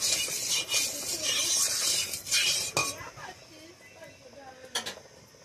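Hot oil in a wok being stirred briefly before fish goes in, a close sizzle with a few metallic clinks and scrapes of the utensil against the pan, fading after a few seconds.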